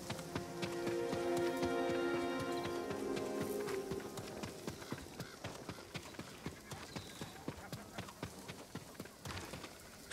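A horse's hooves clip-clop at a steady walking rhythm in the video game Ghost of Tsushima on Iki Island, starting under sustained musical tones and then continuing alone, moderately close, against a light rain-like hiss.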